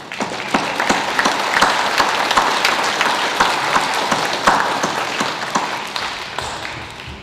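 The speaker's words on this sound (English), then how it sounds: "give yourselves a good round of applause." Loud, sustained applause from an audience at a graduation for an employment and training program, dense clapping with sharp individual claps standing out, tapering slightly toward the end.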